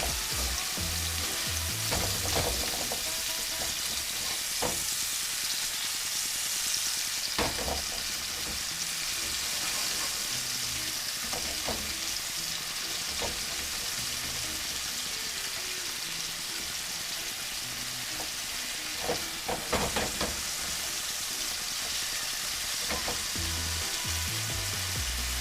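Red lechwe backstrap searing in a hot pan, a steady close sizzle and crackle running throughout, with occasional sharper pops and spatters and no voices.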